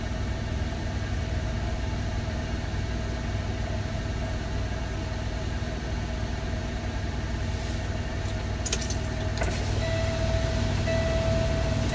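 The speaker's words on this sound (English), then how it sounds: "loco coming" A diesel locomotive rumbles past hauling a freight train of 53-foot well cars loaded with 40-foot containers, a steady, continuous low roar of engine and rolling cars with brief higher squeals and clanks near the end.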